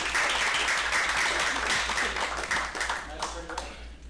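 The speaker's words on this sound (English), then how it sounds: "Give her a round of applause." Audience applause at a property management talk, brisk clapping at moderate volume that thins out over a few seconds, with voices heard beneath and after it.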